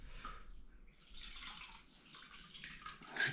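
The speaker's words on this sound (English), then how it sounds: "I got me bowl of water." Water is swished and splashed in a bowl as a fly fishing line is cleaned, giving soft, intermittent sloshing and dripping at low volume throughout.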